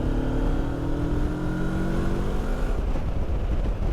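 A motorcycle engine drones steadily while riding, with rising rev pitch under constant wind and road rush, then settling lower near the end.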